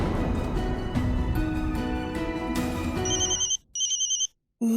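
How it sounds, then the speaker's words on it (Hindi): A mobile phone ringtone chimes in a repeating electronic pattern during a Hindi TV drama scene, playing over background music before cutting off abruptly. "मेरा फोन रिंग हो रहा है।"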